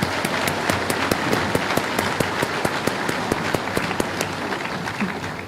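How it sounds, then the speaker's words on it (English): Applause at a high school graduation ceremony after the orchestra's Pomp and Circumstance: a moderate crowd claps with sharp individual hand strikes standing out over a continuous bed of clapping, steady and fairly close. "Please give them a round of applause."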